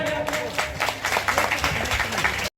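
A crowd at a Kushwaha community conference in Giridih claps enthusiastically, dense steady applause filling the space before cutting off abruptly at the end.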